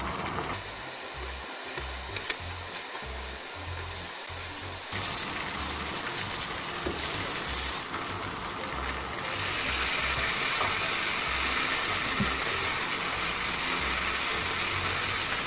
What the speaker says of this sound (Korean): 두부를 넣어서 노릇하게 부쳐주세요